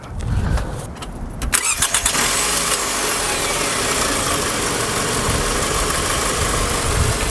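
A 2009 Toyota Camry fitted with a new battery cranks briefly, catches quickly and settles into a steady, close idle with no talking.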